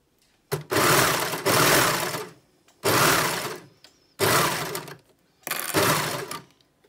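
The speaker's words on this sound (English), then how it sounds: "And then keep stitching." A sewing machine stitches neck binding on a bralette in four loud, close bursts of rapid whirring, separated by short pauses.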